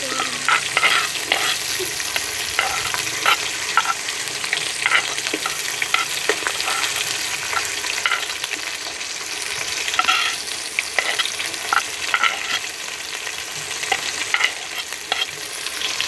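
Small onions sizzle steadily in hot oil for a biryani, with a spoon or spatula scraping and stirring through them in repeated clicks across the whole stretch, close and fairly loud.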